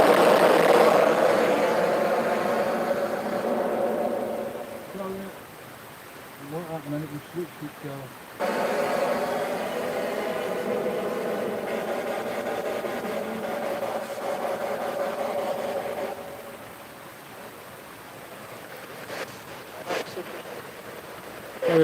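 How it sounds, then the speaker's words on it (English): A spirit box radio switched over to AM sweeps through stations, producing loud rushing static and hiss with brief choppy bursts and pauses, fading quieter toward the end. "I must have caught the button on the spirit box, and it turned itself over to AM"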